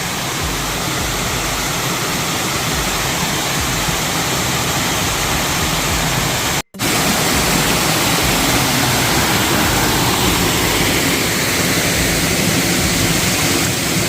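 A small waterfall rushes in a continuous, loud broadband roar of falling water close by, steady throughout with one brief cut near the middle.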